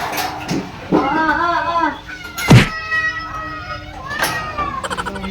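Several caged cats meow loudly and insistently before being fed, overlapping close cries and a caterwaul-like wail punctuated by a thunk, with a person talking nearby.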